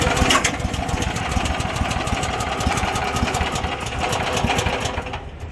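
Small engine of a mini excavator at an auction running after a pull start, a loud, close, rapid steady chug with a buzzy rattle that holds even throughout and briefly eases at the end.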